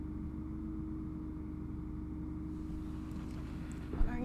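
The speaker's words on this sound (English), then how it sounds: "There's a garbage truck outside. It's very noisy." A noisy garbage truck idling outside, a steady low droning compressor and engine hum with a faint tonal whine, continuous and muffled as if heard through a wall, with a brief clunk near the end.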